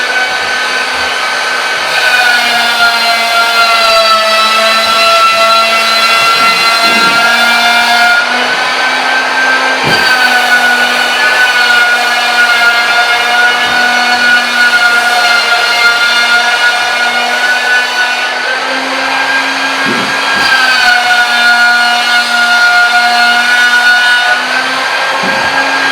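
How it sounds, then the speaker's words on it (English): A dustless drywall power sander runs continuously with a steady high-pitched motor whine and hum, loud and close, with small dips and shifts in pitch as it works the surface; no one speaks. "The result is a drywall power sander that is dustless for sure, but it is also fast and very easy to use."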